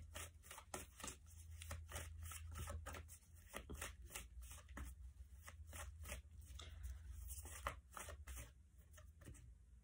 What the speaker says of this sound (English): Let me give them a shuffle first.